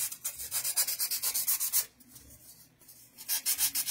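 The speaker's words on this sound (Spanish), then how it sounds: "Vamos a lijar de aquí de los lados donde hicimos estos cortes para que se queden redonditos" Rhythmic rasping strokes of sanding cut edges round, fast back-and-forth scrubbing in bursts with a short pause in the middle, close and clear.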